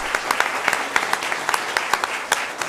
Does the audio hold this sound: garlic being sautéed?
no